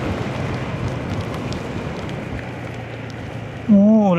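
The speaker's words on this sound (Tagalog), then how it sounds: "Malakas sa ulan." Heavy rain pours at an overnight motorcycle camping site, a dense steady hiss with wind buffeting the microphone, ending in a sudden louder burst near the close.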